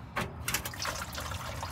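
Transmission fluid from the 4L60E pan of a 1993 Chevy K1500 drains in a steady, close liquid pour that splashes and trickles continuously without pause and without any voices.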